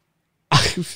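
A single abrupt sneeze bursts out after a half-second of silence, close and loud, with a short breathy tail.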